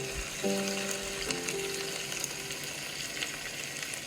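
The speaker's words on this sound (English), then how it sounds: "sizzling." Food sizzles and crackles steadily in a hot pan, a continuous hiss with a brief low tone near the start, no voices.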